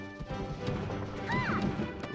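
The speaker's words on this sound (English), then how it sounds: "Ooh, got some down smashes going." Down smash hits in a Super Smash Bros. Melee tournament match at Dreamhack Atlanta 2023, a dense clattering crash of impacts and game sound effects layered over steady crowd and commentary noise.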